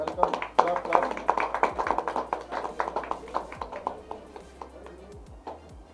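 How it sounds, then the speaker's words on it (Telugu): A group claps at a company calendar and diary launch event, brisk scattered hand claps that start strong and thin out toward the end, with people talking over the applause. "clap clap"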